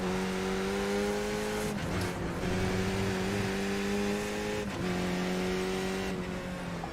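Race car engine in the iRacing sim, droning steadily at high revs with strong harmonics, dipping with quick manual throttle blips on downshifts near 2 and 5 seconds, loud and continuous with no talk.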